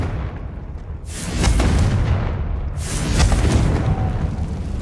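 Two booming blasts of the Confringo fire spell in the video game Hogwarts Legacy, each a loud broad burst that swells and rumbles for over a second, set against quiet game ambience.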